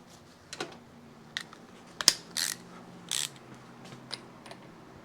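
A tool turns the rotor on a Yamaha 360 MX dirt bike engine during a top-end rebuild, making sparse mechanical clicks and short ratcheting bursts, close but fairly quiet, with no speech.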